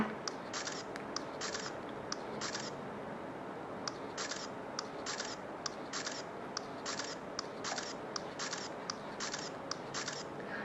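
A Casio Exilim TR-70 compact camera fires its shutter in rapid bursts, a quick run of crisp, evenly spaced clicks, close and clear over a faint background hiss, with no voices.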